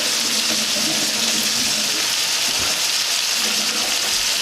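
Tap water runs steadily from a kitchen faucet as hands are washed while cooking, a loud continuous gushing hiss with brief splashy changes.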